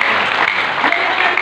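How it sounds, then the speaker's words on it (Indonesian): Audience applause during a church sermon, a dense burst of clapping from a congregation heard close and loud for a moment. "tepuk tangan"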